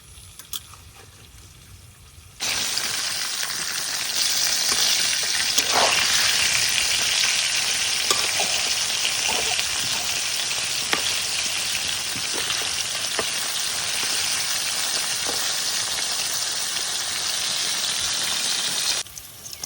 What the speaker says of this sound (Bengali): তো আমার প্রথম পাকোড়াগুলা ভাজা হয়ে গেছে।